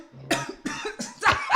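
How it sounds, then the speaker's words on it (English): A person coughs four times in quick succession on a podcast, sharp, close bursts with rough throat noise, the last one the loudest. "I'm just coughing on my spit."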